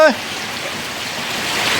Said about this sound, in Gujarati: તો ભાઈ વરસાદ પવન વરસાદ જબરજસ્ત ચાલુ થઈ ગયું છે.